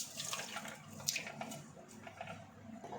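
Goat brain being washed in water with rock salt and turmeric, giving soft, faint splashing and trickling in a quiet kitchen, steady over a few seconds with no talking.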